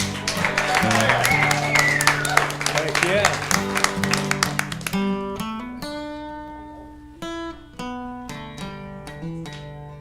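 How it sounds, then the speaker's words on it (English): A small audience claps for an encore at a live show, a lively patter of applause that fades after about five seconds into distinct plucked musical notes. Someone speaks a short exclamation. "Do we have an applause for an encore here?"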